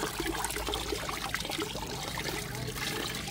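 Hot water pours and trickles over a woman's head as her hair is rinsed during dyeing with blackening shampoo, a soft continuous splashing stream, faint and close.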